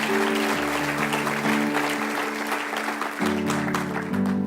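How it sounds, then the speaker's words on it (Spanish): Church congregation applauding during a Spanish-language sermon, a dense crowd clap running continuously over sustained organ or keyboard chords that shift pitch partway through. "Dele su aplauso al Señor"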